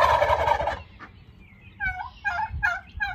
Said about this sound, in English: Look at these gorgeous boys.